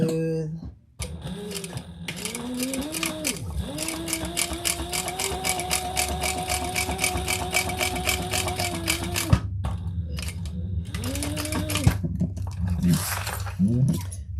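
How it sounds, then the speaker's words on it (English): A sewing machine top stitches layers of leather, running in one long, even, rapid mechanical chatter with a rising hum as it starts, then stopping, with a few clicks and handling noises around it and talking nearby. "we top stitch those layers together on the bottom gusset"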